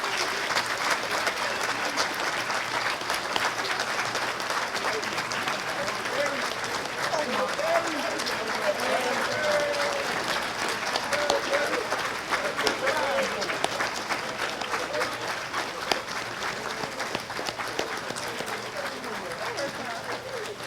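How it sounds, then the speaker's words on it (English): An audience at a high school football banquet applauds a senior group, a continuous dense clapping of many hands that holds steady at moderate volume for about twenty seconds, with voices mixed in. "Let's give this senior group one last round of applause."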